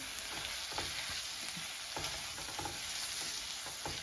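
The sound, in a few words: beef cooking in a pan with mushrooms and green pepper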